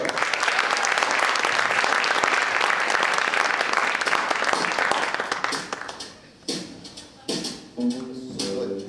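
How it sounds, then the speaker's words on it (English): At a Coconut Grove Players show in Canton, Georgia, an audience applauds a singer with dense, sustained clapping that thins out after about six seconds into a few scattered claps, and a voice briefly speaks near the end. "Let's give it up. A big round of applause"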